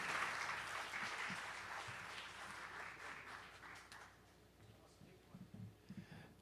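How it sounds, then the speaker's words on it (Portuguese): An audience claps for a speaker at a conference talk: dense, steady applause for about four seconds that then thins and fades into scattered claps and room noise. "Uma salva de palmas, pessoal."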